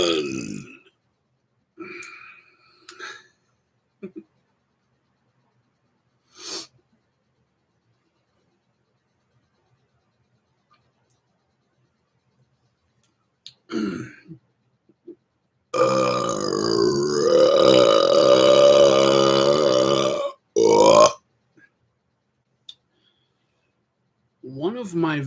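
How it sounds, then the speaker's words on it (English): Long, loud, drawn-out burp lasting several seconds, followed by a shorter one, with short bursts of sound and quiet gaps earlier. "Burp is fun."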